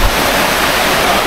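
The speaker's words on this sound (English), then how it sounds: "this is the beautiful view we have right behind me here of the water coming down" Rushing water crashes down at Mt. Plaisir waterfall, Grenada, a dense, constant, close roar with no pauses and no voices over it.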